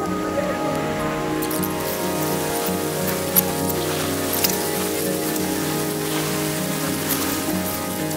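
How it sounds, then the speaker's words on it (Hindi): Very heavy rain falls in a steady, dense roar with scattered sharper drops and faint clicks, close and continuous, with no voices over it. "फ्रेंड्स बारिश बहुत ज्यादा होने लगी"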